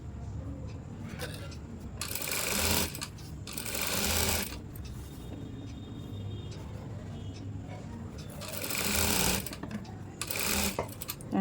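Sewing machine stitching piping onto a blouse: close, rapid mechanical whirring bursts of a few seconds each separated by pauses, with a voice talking between and under them.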